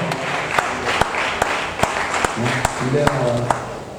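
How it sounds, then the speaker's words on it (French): At a certificate ceremony for Emmaus Bible correspondence course graduates, an audience claps steadily for a graduate. Crowd murmur and a speaking voice sit beneath the continuous applause. "Sous vos acclamations."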